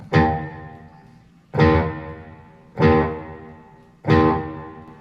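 Firefly FFST black and purple Strat-style electric guitar through a NUX analog delay floor pedal with light reverb, playing four loud strummed chords about a second apart, each ringing out and decaying with a faint delay tail.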